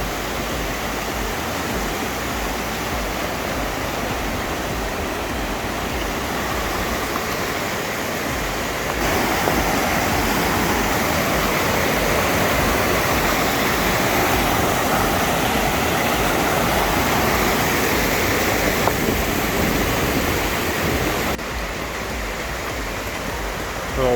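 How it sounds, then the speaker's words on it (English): A small waterfall pours off a little cliff into a river along a hiking trail, a dense steady rushing wash of water that grows somewhat louder through the middle and stays close and continuous. "Little waterfall coming back down into the river here."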